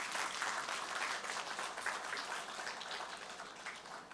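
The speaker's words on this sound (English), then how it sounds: "to give her a hearty round of applause." Audience applause at a project launch ceremony for the Point Fortin Heritage Administrative Complex, a steady wash of many hands clapping from a moderately distant crowd.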